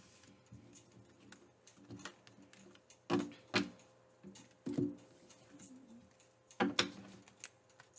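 Playing cards are shuffled with soft riffles and taps, several quick crisp bursts spread unevenly over a quiet background.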